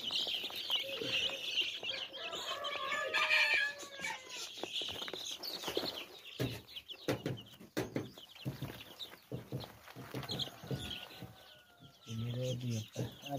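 Two-week-old local chicks chirping in a cluster of high, rapid peeps, close and continuous, with some clucking from nearby fowl and a person talking over part of it.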